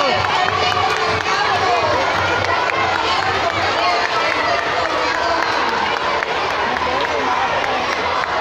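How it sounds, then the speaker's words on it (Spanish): A school crowd at a spring festival presentation applauds and cheers, with children shouting amid dense, steady crowd noise throughout. "¡Aplausos!"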